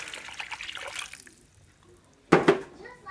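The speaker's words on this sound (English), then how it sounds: "I'm going to go ahead at this point and put in my 3 cups of" Three cups of water poured into a pot of leek soup, a bright splashing gush that bursts in near the end after a quiet stretch, close and fairly loud, with a softer trickle earlier.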